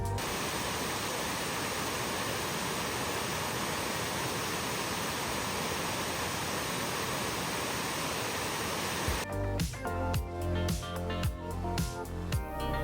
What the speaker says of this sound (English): And this is not the waterfall, by the way, this is just a small scale one just on the entrance in.